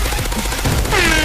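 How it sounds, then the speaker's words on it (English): Launcher weapon firing in a video game set during a train breach, heard as a dense burst of loud blasts and rattling gunfire over about a second, with a rising whistling tone trailing at the end. "Swagmaster, do that launcher thing."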